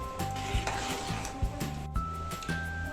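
A spoon stirs green chicken gravy tinted with food colour in a pan, giving rhythmic scraping strokes over a low sizzle with steady background tones, close up.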